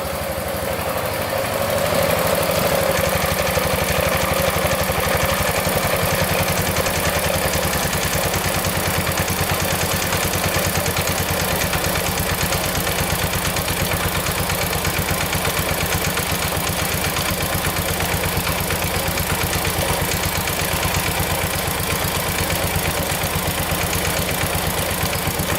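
A rare 1970s Pacesetter three-wheeler engine idles low and steady for a long stretch, with a close, even, pulsing chug and no talking.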